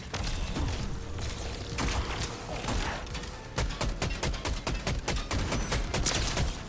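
Shockwave launcher fired in Fortnite, within a dense battle soundscape of sharp repeated blasts and thuds that grow busier and more rapid in the second half, loud and close.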